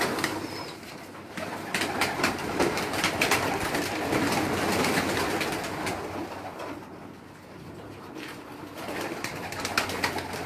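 Pigeons kept by a fancier coo in soft repeated throaty calls, with scattered wing flutters and clicks over a busy outdoor background.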